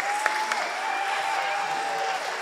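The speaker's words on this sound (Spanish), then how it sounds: "Un aplauso porque un aplauso." A comedy show audience breaks into a dense, even round of applause that holds steady from start to finish, with a thin sustained tone running beneath it.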